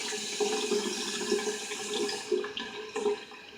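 Tap water runs steadily into a sink while a shaving brush is wetted, a constant splashing stream with a few brief gurgles and splatters near the end.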